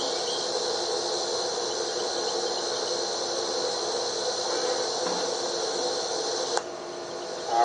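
Honey bees buzz steadily around an outdoor hive, a continuous droning hum that holds at an even level throughout, with a brief tap near the end.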